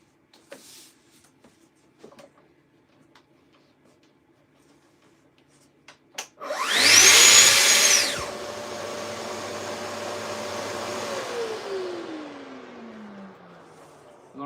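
A power saw set to full depth with a brand-new blade spins up loudly, whines steadily through wood being cut for chopping boards, then winds down, after a few quiet knocks and clicks.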